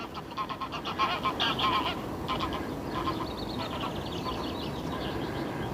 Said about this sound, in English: Here's the geese.